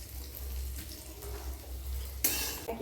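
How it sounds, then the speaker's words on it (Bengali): Capsicum fries in a wok on the same pan just used for cashews and raisins, a quiet continuous sizzle with a brief louder hiss near the end. "একই কড়াই ক্যাপসিকামগুলো ভেজে নিচ্ছি"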